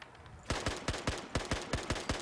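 SKS rifle fired in Fallout 4, a quiet lead-in followed by a steady run of about ten loud semi-automatic shots at an even, fairly fast rhythm, each with a sharp crack and short tail.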